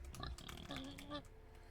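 Pig oinking in an MMO video game, a few short grunting snorts in quick succession, fairly close but quiet, over faint game background sound.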